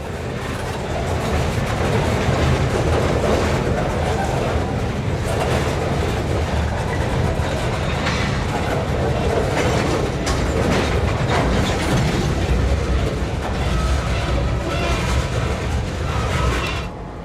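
A KCS freight train hauling tank and steel cars rolls past close by, a loud continuous rumble with clattering wheels and rail clicks that holds steady throughout, with no voices.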